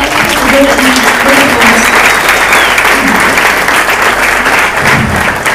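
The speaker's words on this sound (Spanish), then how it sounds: "Un fuerte aplauso." Loud, sustained audience applause at a church conference in Argentina, dense clapping filling the room without a break.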